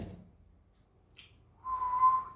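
A single steady whistled tone held for under a second after a brief faint breathy puff, performed as a facial exercise for Bell's palsy rehabilitation; near and fairly quiet.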